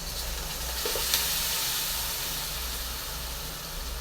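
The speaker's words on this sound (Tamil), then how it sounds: "அந்த பேஸ்ட்டை வந்து இதில் ஊற்றிக்கணும்" Steady sizzling and frying hiss as a ground paste is poured into a hot pan for a ladies finger and curd gravy, with a brief clatter near the start, continuing without any talk.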